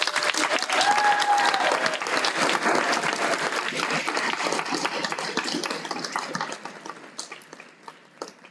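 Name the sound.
audience applause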